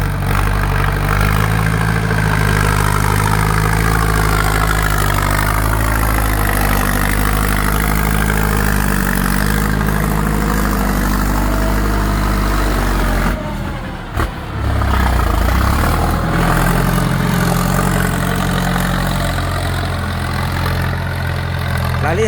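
A heavy diesel engine of a Ford 6610 4x4 tractor idles steadily and loudly close by, its low rumble continuous with a brief dip in the middle.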